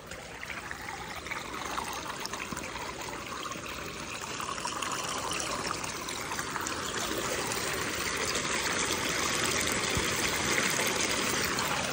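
Water pours steadily out of an opened clean-out on a triple wall drainage pipe, a continuous close splashing trickle that grows slightly stronger over twelve seconds, with no voices.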